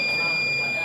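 An Arduino distance-sensor project's buzzer emits a continuous, shrill electronic tone, steady throughout a brief moment, with a faint murmur of background noise underneath.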